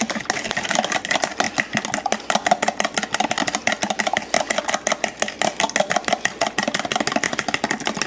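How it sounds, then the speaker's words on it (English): Eggs whisked with a fork in a bowl, a fast, even run of light clicking taps close by, continuing steadily throughout without talk. "Now you just want to whisk these eggs."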